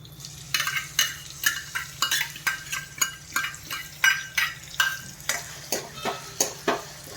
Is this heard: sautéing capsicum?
yes